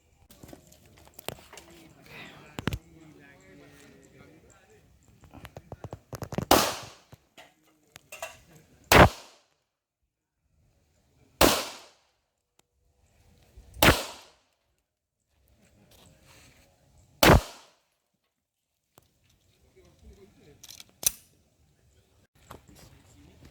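Browning Hi Power pistol, an old handgun, fired at target practice starting at short range: several sharp, loud shots spaced a few seconds apart, each cracking out over quiet outdoor background with faint murmuring between.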